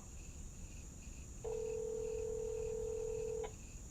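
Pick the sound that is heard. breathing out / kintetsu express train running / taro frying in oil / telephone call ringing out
telephone call ringing out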